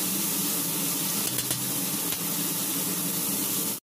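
Chicken wings sizzle steadily in hot oil during a second fry, a dense, loud crackling hiss that holds evenly throughout and cuts off abruptly at the end.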